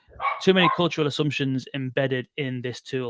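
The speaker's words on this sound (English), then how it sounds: "That's my dog going crazy because I can hear something." A dog barks excitedly somewhere in the room, its bursts mixed in under someone talking continuously, never heard on its own.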